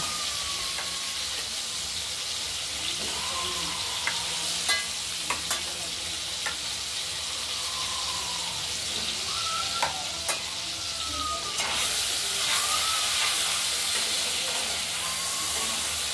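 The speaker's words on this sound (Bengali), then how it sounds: "আলু কটাও লাল করে ভেজে নেব" Potato pieces fry in a pan with bay leaf, dried red chillies and cumin, giving a steady, loud sizzle with occasional stirring clicks throughout, and no voices.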